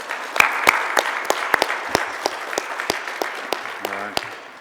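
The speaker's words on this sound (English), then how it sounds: "just give them a round of applause" Judges at a healthcare internet hall of fame induction ceremony receive a round of applause: steady, dense clapping from the audience with a few sharper claps standing out, tapering off toward the end.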